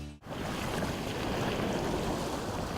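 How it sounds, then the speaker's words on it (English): A strong southeasterly wind and waves wash over the Salish Sea off rocky Vancouver Island shoreline, a dense, steady roar of surf and gusting air that fills the whole moment without voices. "A strong southeasterly wind curls the waters of the Salish Sea over the rocky escarpments"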